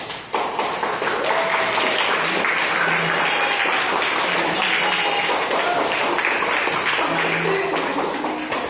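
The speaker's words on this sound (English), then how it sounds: "Give applause for them." An audience applauds presenters after a presentation at a question and answer session, a steady, dense patter of many hands clapping filling the room for several seconds, with faint voices underneath.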